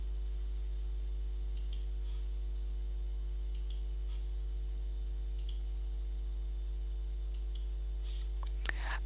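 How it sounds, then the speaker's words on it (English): A computer mouse gives several sparse, sharp clicks spaced a second or two apart during a software drawing session. They sound close and crisp over a constant electrical hum, with no talking. "I press the Alt key and click onto the overhanging lines"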